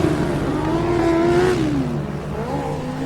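Electric Formula Student race car coming through the final corner in an endurance event, a smooth whining motor tone rising and then dropping in pitch as it passes, fairly loud over steady background noise.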